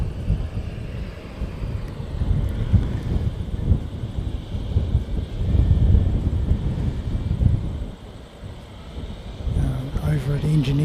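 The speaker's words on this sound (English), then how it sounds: "Over at engineering, we've got another ATR sort of starting up, and it might be returning to service at some point." An ATR turboprop airliner starts up at an engineering area, heard as a distant, steady low engine rumble mixed with gusty wind noise across the whole stretch, easing briefly near the end.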